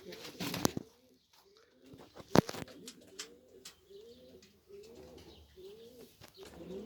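Saraylı pigeons of old bloodlines, including elderly birds, coo in a loft in repeated low, rolling phrases, close and fairly quiet, with a couple of sharp clatters or wing flaps breaking in early on.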